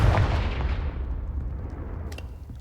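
In Hogwarts Legacy, a Confringo blasting spell detonates in one loud, close explosion whose rumbling tail fades over a couple of seconds.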